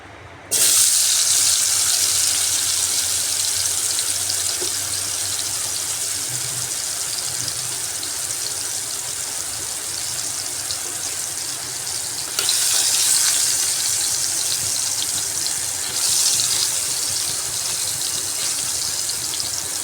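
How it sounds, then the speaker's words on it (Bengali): Potatoes coated in salt and turmeric frying in refined oil in a kadai, a loud, close, continuous hiss and crackle that holds steady throughout, swelling briefly a couple of times, with no talking. "এখন আমি নুন হলুদ মাখিয়ে আলুগুলা প্রথমে ভেজে নিচ্ছি"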